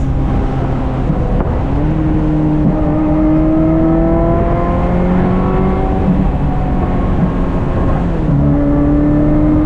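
A Ferrari 355 F1 engine running and revving near 4,000 RPM, a loud, steady, close engine note that rises and falls in pitch with the throttle; no one speaks.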